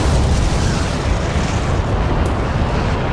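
A loud explosion in an animated Wario and Waluigi comedy rolls out as a sustained, dense, rumbling roar that stays heavy and steady for about three seconds, with no voices over it.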